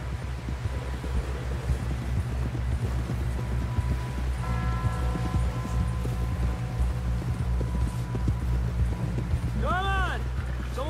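A horse gallops with a steady clip-clop of hooves in Red Dead Redemption 2, beneath wind noise and a voice talking, with a few tonal sounds near the end.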